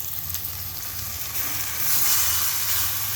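Sweet potato leaves hit a hot frying pan and sizzle with a close, steady crackling hiss that swells slightly as they settle in the oil, with no talking.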